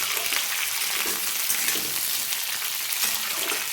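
Tender drumstick stalks and potatoes fry in oil for a Bengali vegetarian dish, giving a loud, continuous bright hiss with gentle rises and falls from stirring, no voices.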